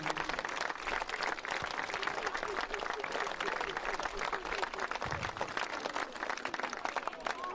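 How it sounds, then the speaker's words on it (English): A big round of applause for the behind-the-scenes organising team at a festival presentation for players and parents, dense steady clapping from a crowd filling the whole stretch with no pause. "if we could just have a big round of applause for Andy and his team behind the scenes"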